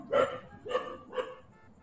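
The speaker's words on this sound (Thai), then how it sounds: "เอ้ยมึงเลิกเห่าก่อนได้ไหมมึงรบกวนการอัดคลิปกูเนี่ย" A dog barks three times at an even pace, each a mid-pitched yapping bark, moderately close and loud in a quiet room with no speech over it.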